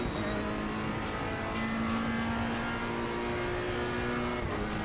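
Racing car engine in a driving video game drones steadily at high revs, a sustained whine with rising and falling tones, loud and continuous with no talk.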